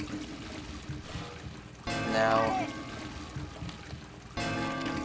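Gas cans are poured out during a Left 4 Dead 2 Scavenge match: a rushing glug of liquid surges in two loud bursts, with someone talking over the first stretch.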